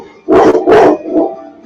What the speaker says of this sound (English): You have to forgive my dog in the background. I don't know what's going on, but he's barking at something up there.